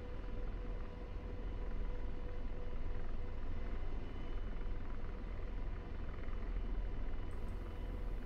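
An Apache helicopter hovers out of ground effect in the DCS flight simulator, a steady, low rotor and turbine drone that holds a constant pulse throughout, fairly quiet and with nobody speaking.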